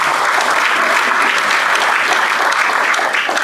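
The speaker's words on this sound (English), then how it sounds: "Round of applause." A Rotary club meeting audience breaks into loud, dense applause that holds steady for the whole few seconds without a break.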